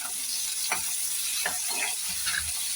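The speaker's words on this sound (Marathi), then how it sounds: "कांदे आपल्याला चांगले परतून घ्यायचे." Two finely chopped onions fry in oil with cumin and mustard seeds for a potato curry, with a steady close sizzle and a few soft scraping stirs.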